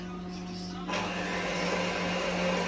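A handheld electric blender mixing soft butter switches on partway through, its steady motor whir joined by a constant low hum, running loudly and continuously until the end.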